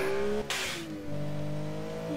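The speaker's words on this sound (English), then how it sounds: "Just to show you how the engine sounds." A turbocharged car engine in the video game Automation revs high, drops sharply with a rushing burst, then settles into a steady droning hum, close and loud.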